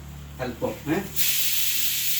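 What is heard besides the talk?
mustard seeds sizzling in hot oil for fish curry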